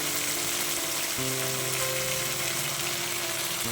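Onion, ginger and garlic paste sizzling in a pan, a steady, even frying hiss with faint stirring scrapes and no talking.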